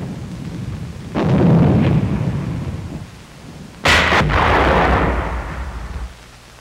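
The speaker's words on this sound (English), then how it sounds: "81mm mortar crews supporting the infantry early in February" Two heavy booming blasts from an 81mm mortar in a 1945 wartime newsreel, each a loud low thump with a rumbling tail, spaced a few seconds apart over a crackly background.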